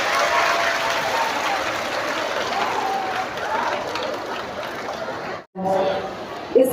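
Crowd applause fills a public education-department event, a steady dense clapping with murmuring chatter, running on until a brief break near the end.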